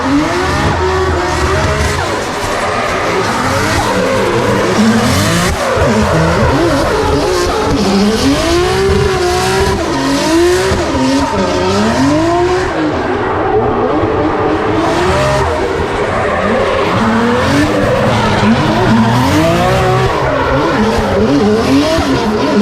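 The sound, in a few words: drift car run with skidding and tire squeal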